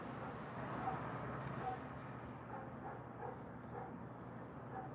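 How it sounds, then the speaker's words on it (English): A dog barks and yips intermittently in the background of a room, several faint, short calls spread across the moment, partly under low room noise. "Stupid dog barking."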